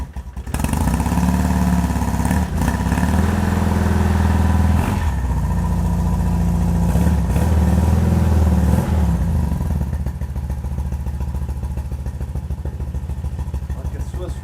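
A restored BMW R80 G/S motorcycle runs close by with a steady, throbbing boxer-twin idle and a few brief revs, its loud mechanical rumble continuing throughout and easing slightly near the end.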